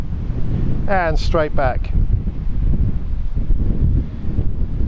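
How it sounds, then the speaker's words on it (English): Strong outdoor wind buffeting a microphone in 40 mph gusts, a loud continuous low rumble that persists throughout while someone speaks briefly over it. "Now the wind has really got up,"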